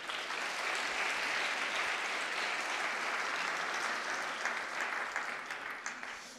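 An audience at a women's cybersecurity awards ceremony applauds three candidates, a broad, fairly distant wash of clapping that holds steady and then begins to thin near the end.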